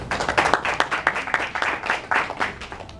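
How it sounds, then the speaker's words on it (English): A comedy-club audience claps for a married couple of 25 years, a close, lively patter of hands that rises and falls over a few seconds, with a faint voice underneath. "Clap it up for them."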